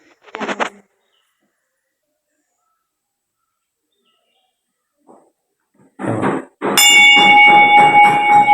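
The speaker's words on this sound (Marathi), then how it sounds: "घंटा वाजून घाबरलो" After mostly quiet moments with a few brief sounds, a temple bell rings out near the end at a Shiva temple in a jungle, its bright metallic tone sustaining and resonating loudly.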